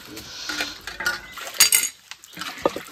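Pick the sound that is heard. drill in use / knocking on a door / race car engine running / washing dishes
washing dishes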